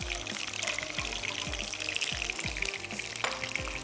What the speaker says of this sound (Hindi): साथ ही मैं इसमें और एक प्याली पानी शामिल कर देती हूँ